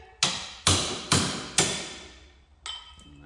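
Four loud, ringing hammer strikes on metal at an even pace, each decaying briefly, followed by a lighter metallic clank, during a Polaris RZR XP 1000 front differential rebuild.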